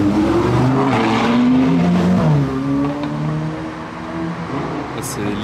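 Ferrari and Lamborghini supercars pass in a convoy through Monaco streets, with loud, close engine roar and rising, falling revs as the cars go by, and a voice talking beneath.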